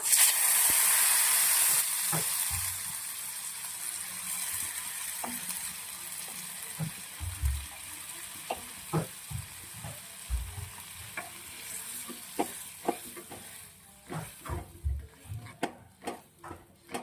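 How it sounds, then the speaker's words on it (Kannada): Mixed greens curry poured into hot tempering sizzles with a strong, close hiss at first, settling into a gentler bubbling fry punctuated by repeated clinks and scrapes of stirring that grow more frequent toward the end. "ಸೊಪ್ಪು ರೆಡಿ ಇರುವಂತ ಸೊಪ್ಪು ಸಾರನ್ನ ನಾವೀಗ ಒಗ್ಗರಣೆಗೆ ಆಡ್ ಮಾಡ್ಕೊಳ್ಳೋಣ"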